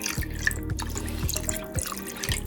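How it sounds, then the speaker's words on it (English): Vinegar from a gallon jug pours into a pot of water holding ribs, giving close, intermittent dripping and splashing plops over a steady liquid trickle, with no talking. "I got this big, large gallon jug of vinegar, and I'm going to pour some in here."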